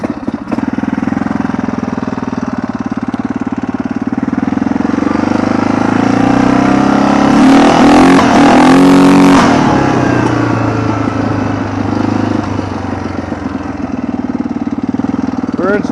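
A 1998 Yamaha Grizzly 600 ATV drives along a snowy trail, its engine running steadily near the microphone and briefly rising in pitch as it revs midway before settling back.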